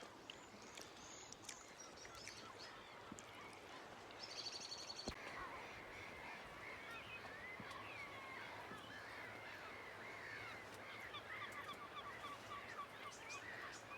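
Gulls call from a gull island on Lough Neagh, a chorus of squawks and cries at moderate distance, continuing steadily through a faint outdoor background.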